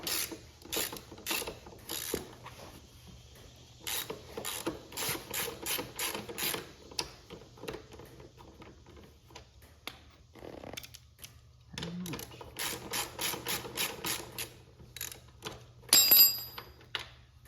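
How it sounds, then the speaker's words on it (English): A ratchet with a 3/4 inch socket unbolts the rear wheel nut on a Suzuki Intruder motorcycle, giving repeated runs of rapid, close, crisp clicking separated by short pauses. "So here goes the 3/4 inch socket. Make sure we got it on reverse."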